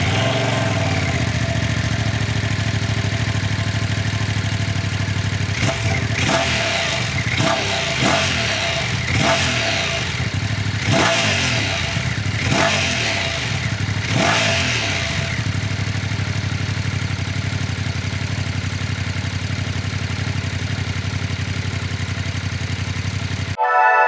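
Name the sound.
Ducati Streetfighter V2S motorcycle engine starting and revving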